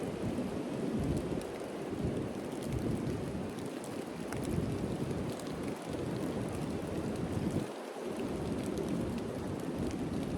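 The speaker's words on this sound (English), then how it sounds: "The roaring wind has been exceptionally loud right here." Roaring wind gusts sweep across a mountain trail on the Appalachian Trail, a loud continuous broadband rush that swells and holds for several seconds with brief dips, no voices.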